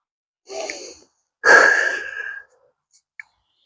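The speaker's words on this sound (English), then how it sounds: "What's with the breathing and the dribbling?" An athlete at the foul line breathes heavily: two loud, close exhales, the second longer and gasping, followed by a faint click.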